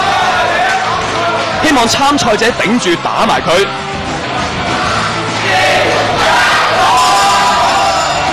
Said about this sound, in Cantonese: 觀眾反應就好熱烈